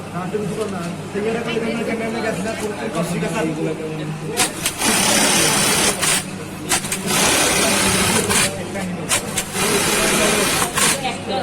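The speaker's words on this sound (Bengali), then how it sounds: "এটা কি বারটেক মেশিন?" A bartack sewing machine in an apparel lab runs in loud bursts of rapid mechanical stitching, starting and stopping repeatedly, with people talking throughout.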